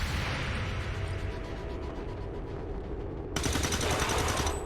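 Sustained automatic gunfire from the XCOM 2: War of the Chosen strategy game, a dense continuous rattle of shots that swells louder and harsher near the end, with no talking.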